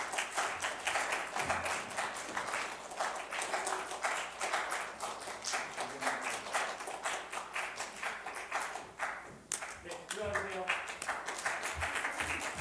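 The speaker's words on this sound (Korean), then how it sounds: "우리 그 고생했던 임원분들 이렇게 박수 한번 쳐주시면 좋을 것 같습니다" A church youth group claps for its officers, a steady wash of many hands clapping through most of the span, softening briefly near the end before picking up again at a moderate distance.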